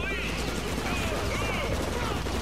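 Rapid bursts of gunfire crackle continuously in the PS2 game 25 to Life, under background game sounds and a busy mix, with no clear pauses between shots.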